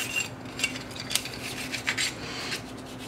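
A light nylon brush scrubs the metal of an SR1911 pistol during cleaning, giving a steady, close scratchy rasping with brief sharper clicks and scrapes of metal parts, alone without talk.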